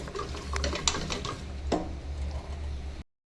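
A spoon works through a large pot of gram-flour dhokla batter topped with Eno and lemon juice, giving close scraping, clattering strokes with a few sharp knocks before stopping abruptly.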